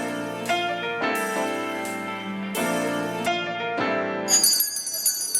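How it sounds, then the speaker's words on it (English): Salvation Army bell ringers shaking hand bells at a holiday kettle, bright overlapping ringing strikes in irregular bursts, loud and close, with a thinner higher jingle near the end. "they hear the bells ringing"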